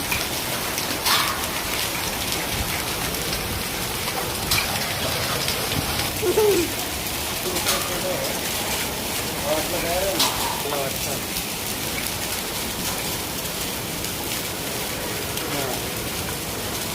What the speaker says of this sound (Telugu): ఎర్ర టెండల్లో ఇంత వర్షం ఎంత బాగుందో ఫ్రెండ్స్. చూడండి మీరు, ఇన్ని రాళ్ళు పడుతున్నాయో.